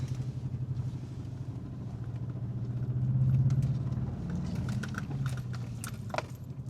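A cheap Audi with a faulty turbo engine accelerates at full throttle, its drone building steadily and peaking midway before easing slightly, with faint rattles and clicks on top and no speech.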